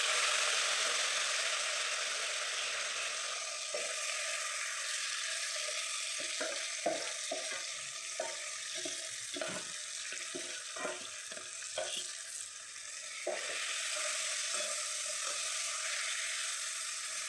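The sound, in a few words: marinated chicken frying in a pan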